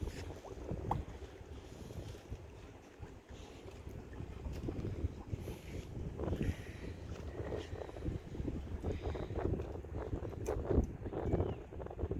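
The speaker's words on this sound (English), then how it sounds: "Very nice breeze blowing." Steady outdoor breeze gusts and rustles beside a fishing lake at a park, a continuous broadband wash with microphone buffeting and no talking.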